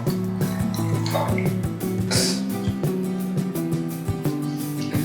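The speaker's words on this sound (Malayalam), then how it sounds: "ഞെക്കുമ്പോൾ അപ്പം തന്നെ വെള്ളം വരും" Water runs steadily from the spout of an automatic bottle dispenser, a continuous close-up splashing stream with a low hum underneath and occasional clicks.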